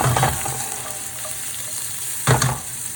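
Onions and root vegetable ends fry in a hot pan in a kitchen with a steady, close sizzle, and two brief louder bursts suggest stirring near the start and end.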